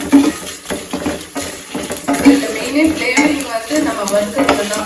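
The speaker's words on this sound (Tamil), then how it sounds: "மிளகாயும் நல்லா வறுபடுது" Red chillies and sesame seeds roast in a pan over lowered heat, producing a steady sizzle and crackle along with repeated scraping and stirring against the pan's metal surface.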